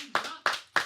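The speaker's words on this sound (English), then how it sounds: "Clap your hands if you down for White Castles." Three sharp, evenly spaced hand claps ring out in quick succession from an audience, each crisp and close, with a brief decay between them.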